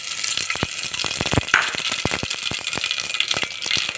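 Mustard seeds and cumin frying in hot tempering oil for sambar: a continuous close sizzle broken by frequent sharp, irregular pops and crackles throughout.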